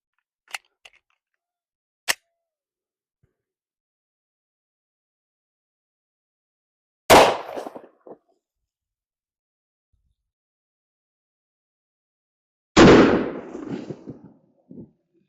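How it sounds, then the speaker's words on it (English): A Glock 29 fires Winchester Defender 180-grain 10mm jacketed hollow-point rounds into water jugs outdoors: two loud, isolated shots several seconds apart, each with a short splashing, rumbling tail, preceded by a few faint clicks. "the Glock 29 shooting the Winchester Defender 180 grain jacketed hollow point 10mm"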